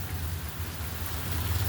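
Steady rain falls during Indiana flooding, with floodwater running across a road: a dense, continuous hiss of drops and rushing water, close and unbroken over a brief stretch with no voices.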